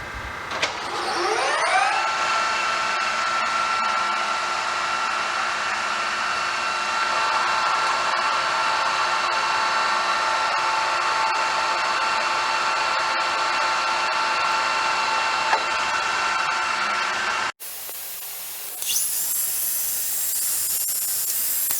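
A metal lathe turns a workpiece through four cutting passes on sections D and E, giving a steady loud whining machine tone that rises in pitch as it spins up, then stops abruptly near the end as a quieter hiss takes over.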